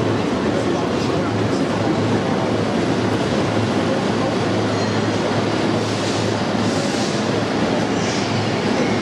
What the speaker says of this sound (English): It's a dinner train.